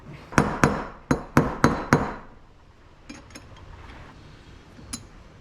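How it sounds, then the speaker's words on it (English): Six sharp metallic hammer blows in a quick, steady rhythm, close and loud, as a bearing race is driven into a trailer hub, followed by quieter clinks and a final light tap. "you're going to use that to hammer it into place like this"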